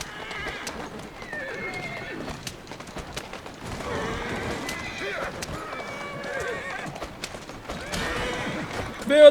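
A horse-drawn carriage in Assassin's Creed Syndicate, pulled by a single horse through London streets, gives brisk repeated clip-clop hoofbeats with occasional whinnies, moderately close, under someone talking.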